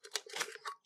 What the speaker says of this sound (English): I will cut down through that hole in a straight line to the bottom